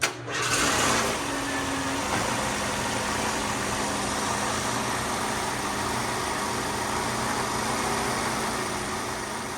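A 1977 Ford Pinto wagon engine cranks and catches on its first start after a revival, then settles into a steady, fairly loud idle that runs on without talk.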